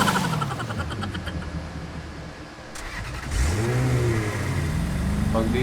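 A car engine in the Rules of Survival video game, revving with rising and falling pitch sweeps as the vehicle is driven, fairly loud and continuous, with a slight dip before the revving swells again.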